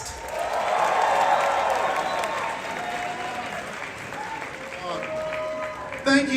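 Loud audience applause and cheering at a live Halloween Horror Nights panel, a dense crowd roar that swells early then holds steady, with a brief burst near the end.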